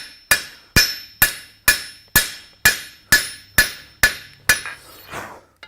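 A blacksmith's hammer strikes hot metal on an anvil, spreading the stock into a fan: about eleven sharp, ringing blows at a steady, even rhythm, close and loud, with the last few lighter and quicker.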